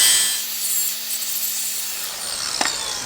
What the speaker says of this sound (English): so I'll grind this down